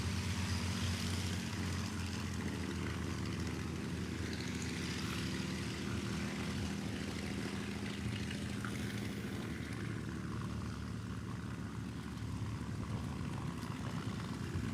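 P-51 Mustang piston aircraft engine running at an airfield, a loud, steady, rumbling drone with a broad roar that holds continuously and shifts slightly in pitch partway through.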